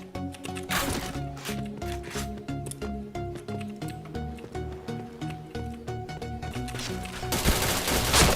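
Rapid bursts of automatic gunfire from the shooter game Point Blank crackle in quick repeating volleys throughout, loud and sharp, with brief bits of talk over the top.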